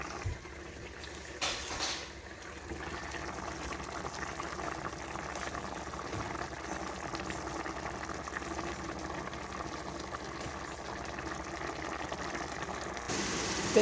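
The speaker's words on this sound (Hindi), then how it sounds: "अब मैं इसमें बाकी के स्पाइसेस ऐड करके इसकी भुनाई कर दूँगी।" Mutton cooking with spices in a pot, a steady bubbling, simmering hiss that runs throughout with a few brief clatters, moderately quiet and close.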